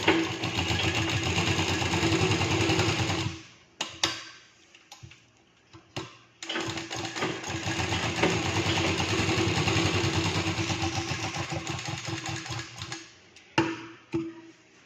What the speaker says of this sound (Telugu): మళ్ళీ దీనిలో మలుపుతూ ఇంకొక స్టిచ్.